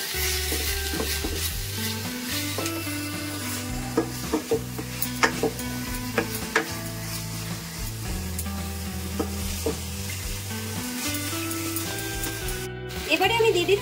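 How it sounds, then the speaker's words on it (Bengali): Spice paste with red chilli powder and salt sautéing in oil for a Bengali fish curry with potatoes, a soft sizzle and occasional stirring scrapes under steady background music. "অল্প পরিমাণে নুন দিয়ে আমি ভালো করে কষিয়ে নেব।"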